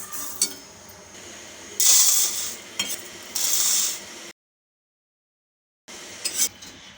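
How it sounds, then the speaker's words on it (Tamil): Lentils and moong dal dry-roast in a kadai, with scraping stirs, light clinks and soft crackling in short bursts and a brief silent gap partway through. "இப்போ இந்த ரெண்டு பருப்பும் வறுபட்டு வரட்டும்"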